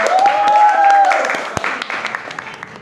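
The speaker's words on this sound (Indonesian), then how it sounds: "Tepuk tangan." A class of students claps at a teacher's prompt during a religious education lesson, a short burst of applause mixed with a brief tone and voices over it.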